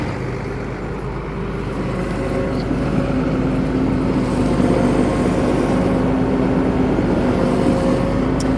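John Deere 7810 tractor idling, hooked to a square baler on a hay field, a loud steady low engine drone with a constant hum throughout.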